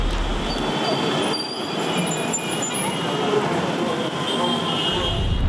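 Train sounds at CST (Chhatrapati Shivaji Terminus) station in Mumbai: a steady, busy rumble with high metallic wheel squeal running throughout, under voices and crowd noise.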